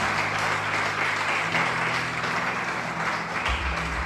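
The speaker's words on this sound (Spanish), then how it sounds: "¿Ya les aplauso frente a Jesús?" A church congregation applauding during a Christmas service, dense continuous clapping, with a low hum and a faint tonal undertone running beneath it.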